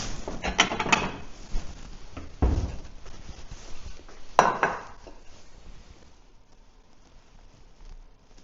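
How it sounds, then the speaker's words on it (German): Slices of home-cured graved salmon carpaccio laid out on a plate, with close clinks and taps of cutlery against china and a few handling knocks, tapering into quiet near the end, no talking. "Dann wollen wir das jetzt mal auf einem Teller schön anrichten."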